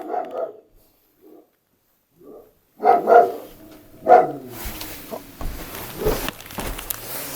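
A dog barks outdoors at night during a paranormal ghost-hunting outing in Turkey, a few scattered barks, some distant and faint, then louder closer ones with rustling noise behind.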